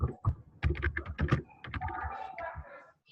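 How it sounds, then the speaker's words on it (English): Someone types on a computer keyboard in quick, uneven bursts of clicking keys, heard close up during an online meeting with no talk over it. "Here's someone typing."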